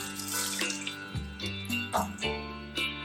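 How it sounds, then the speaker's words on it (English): Sprouted quinoa being rinsed under a running tap in a sink, a steady close stream of water splashing and gurgling with shifting tones as the grains are swirled, with no talking. "So we're gonna rinse this well to remove all the enzyme inhibitors."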